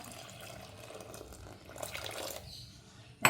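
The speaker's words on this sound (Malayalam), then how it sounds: "ഇതൊന്ന് വെള്ളം ചേർത്ത് കൊടുക്കാം" Water pours from a tap or jug into a bowl of rice flour for idli batter, a soft, quiet splashing trickle that builds slightly midway, with a sharp clatter at the end.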